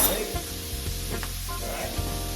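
Brussels sprouts sizzling steadily in a hot pot, a dense, loud frying hiss with a few faint clinks and stirring scrapes, and no voices.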